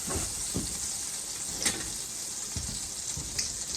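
Vegetables sautéing in a skillet, one batch at a time: a steady, fairly quiet sizzle with soft scraping stir strokes at intervals, no talk.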